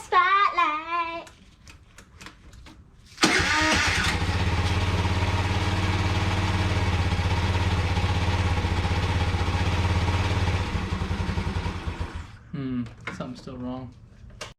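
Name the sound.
50cc Sento (Kymco) scooter engine running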